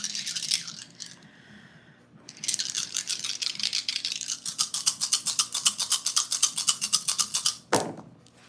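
Dice rattled together in cupped hands or a container during a live crystal ball reading, a close, rapid clattering that comes in bursts and speeds into a steady shake before stopping abruptly.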